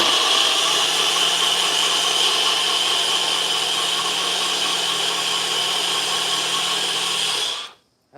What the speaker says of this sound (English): I'm going to go ahead and blend this for a second